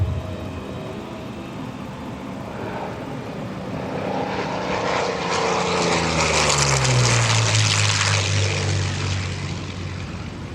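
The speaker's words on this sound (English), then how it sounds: "Thom's going to bring the airplane around again." A P-40 Warhawk propeller fighter flown by Thom Richard makes a pass at the 2024 Westmoreland County Airshow. Its engine drone swells loud, then drops in pitch as it sweeps by, with no voices.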